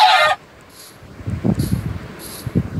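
Minecraft chickens cluck in short, soft bursts after a sharp burst of game noise, low pecking clucks scattered across the next couple of seconds at a moderate distance.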